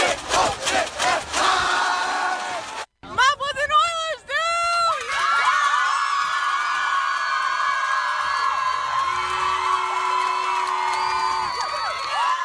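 Midland and Mount Pleasant student sections at a football game shout and cheer as a loud, dense crowd roar, with chanting bursts, a brief cutoff, then sustained cheering.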